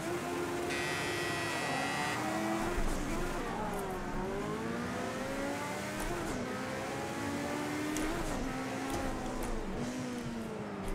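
A Group 5 race car with a five-speed manual H-pattern gearbox and 100% turbo boost in Project Cars 2 roars continuously, its engine pitch climbing and dropping through gear changes, with some talk over it.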